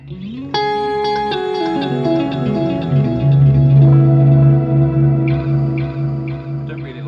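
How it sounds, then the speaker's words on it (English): Electric guitar through the Plateau reverb on a Line 6 Helix: sustained chords and single notes ring out into a long, shimmering wash with a slight pitch warble, played alone with no voices. "I don't really like the plateau reverb because it seems to have like a warble on the pitch, which to me just makes it sound out of tune."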